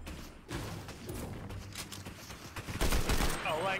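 AK rifle gunfire in a video game, bursts of shots crackling under excited talk and background game noise, getting louder toward the end.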